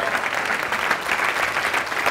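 A live audience claps in a dense, steady burst of applause, loud and close, continuing evenly without a break.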